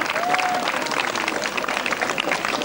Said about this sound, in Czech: Prosím, zatleskejme.